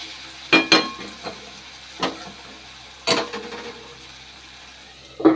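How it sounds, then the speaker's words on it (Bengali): Lightly salted food frying in a pan gives a steady low sizzle, broken by a few sharp utensil clinks and scrapes spaced a second or more apart, near and moderately quiet. "এটা ভাজবো এবারে। ভাজা হচ্ছে, ভালো করে একটু ভাজা করতে হবে।"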